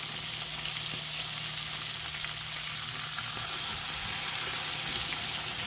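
Pork chops fry in a pan with a steady, close sizzle and crackle that holds continuously, with faint occasional clinks and no talking.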